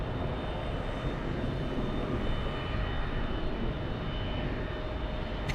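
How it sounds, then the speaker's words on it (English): A Boeing 757 fitted with Rolls-Royce RB211 engines roars steadily near LAX, a loud, continuous broadband jet rumble with a faint whine on top that holds for several seconds without speech. "Great sound coming from the Rolls-Royce RB11 engines."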